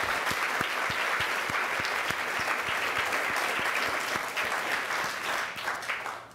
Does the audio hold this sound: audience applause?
yes